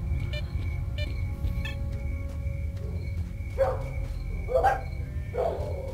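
Dog barking in S.T.A.L.K.E.R.: Shadow of Chernobyl, a few mid-distance barks in a row over a steady low ambient drone, spaced about a second apart.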